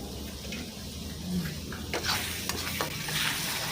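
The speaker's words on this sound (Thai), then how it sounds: "ผัดให้เข้ากับพริกแกงที่เราผัดนะคะ ผัดให้เข้ากันค่ะ" Curry paste being stir-fried with coconut cream in a pot for a Thai pork belly curry, with a constant close sizzle and the scrape and slosh of stirring throughout.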